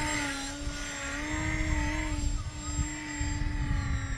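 A homemade twin-rotor RC gyrocopter flies with a steady, high whining buzz from its propeller and rotors, the pitch wavering slightly as it maneuvers nearby, with no talking.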